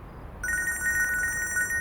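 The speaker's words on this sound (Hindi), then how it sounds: "फोन बज रहा है तुम्हारा।" A telephone rings with a repeating electronic trill, loud and close, starting after a brief quiet moment and continuing steadily.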